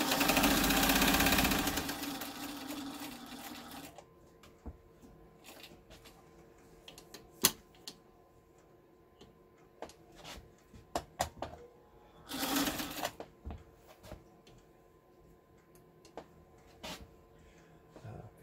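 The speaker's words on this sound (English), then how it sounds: "we'll see the fabric move more quickly" A Kenmore Stylist 86 sewing machine stitches fabric with a fast mechanical whir for a few seconds, then falls mostly quiet apart from scattered clicks and a second short burst of running.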